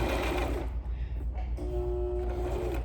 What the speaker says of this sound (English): When our elastic starts to go underneath of our presser foot, we can then remove this last pin and sew across it.